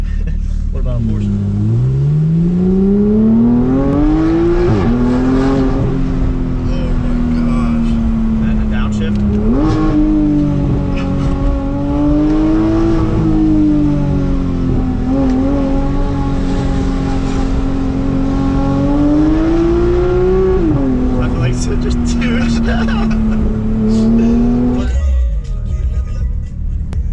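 Porsche 911 GT3 engine revving hard through gears from inside the cabin, loud rising and falling engine tone with several shifts over about 25 seconds, people talking over it.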